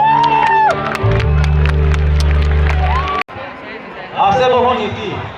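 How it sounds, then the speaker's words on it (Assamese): A crowd at a 50th birthday celebration in Jorhat cheers and applauds loudly and steadily throughout, with sustained whoops. Loud music and voices run on top, the din briefly cutting out near the end before the cheering swells again. "হাত চাপৰিৰে তেওঁলোকক ধন্যবাদ জনোৱা হওক"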